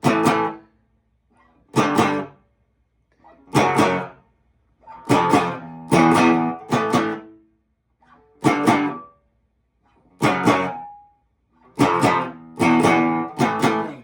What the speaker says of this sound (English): These are power chords, they are simple, and they rock.